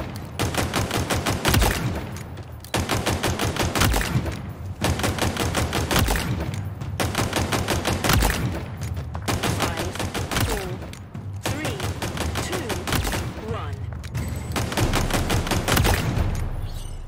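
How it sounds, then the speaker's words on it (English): Bursts of fully automatic gunfire at a slow, steady cyclic rate on a video game firing range, loud and close, in five long strings separated by short pauses. "A slow fire rate fully automatic weapon?"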